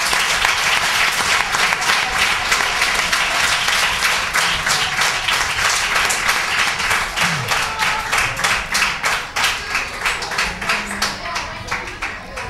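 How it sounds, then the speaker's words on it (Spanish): Applause at a youth football awards ceremony for an under-eight club team, held in a bar's function room: sustained clapping from a small gathering that thins into scattered individual claps toward the end, with faint voices underneath. "Yo pido un aplauso a Susana, por favor."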